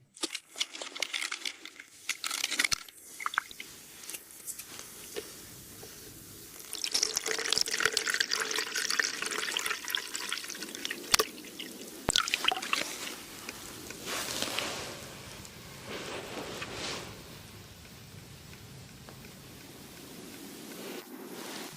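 Dirty, blackened water drips and trickles slowly through a DELTA water filter, irregular small splashes and running liquid close by, with no talk.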